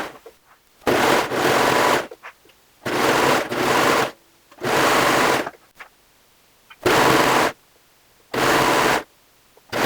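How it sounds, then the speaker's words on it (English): A serger with its knife turned off sews a flatlock hem along the folded edge of a shirt, running in six loud, steady bursts of roughly a second each, separated by brief quiet pauses, with no talking. "And then I am going to stitch along this folded edge."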